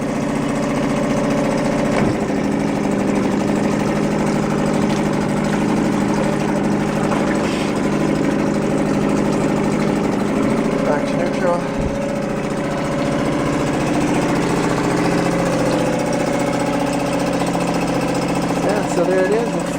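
A 2017 Suzuki 2.5 hp outboard motor runs steadily in forward gear, a loud, continuous buzzing engine drone with a faint voice now and then beneath it.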